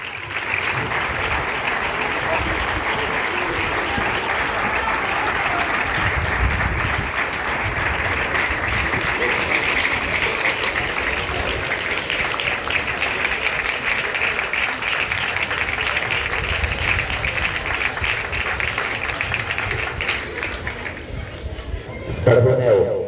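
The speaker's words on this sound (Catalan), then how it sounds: "Fort aplaudiment." Loud, sustained audience applause for the coaches of a hockey team at a club presentation, a dense wall of clapping and crowd noise that holds steady for over twenty seconds before cutting off.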